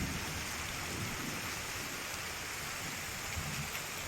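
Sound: rain falling

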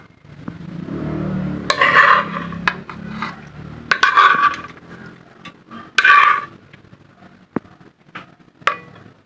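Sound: serving sautéed bitter gourd (ginisang ampalaya) onto a plate

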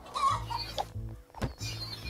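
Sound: chicken clucking in the video game Party Panic

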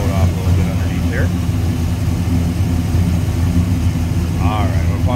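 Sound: car engine idling

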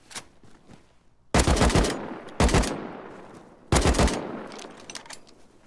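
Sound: gunfire from video game Rust

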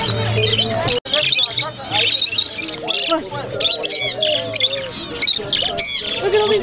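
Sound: small birds chirping at a swap meet

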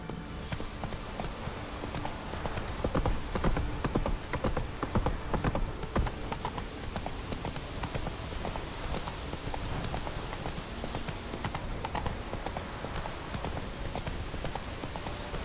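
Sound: horse Roach trotting in video game The Witcher 3

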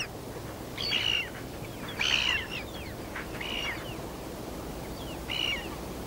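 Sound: gulls calling in the Arctic

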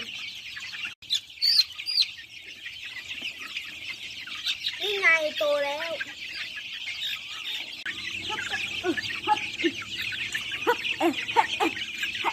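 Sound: chickens clucking while being fed

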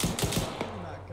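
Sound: gunfire in video game Arma 3

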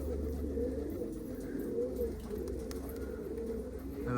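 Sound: pigeons cooing as young pigeons land

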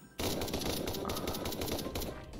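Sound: gunfire in video game PUBG Minecraft

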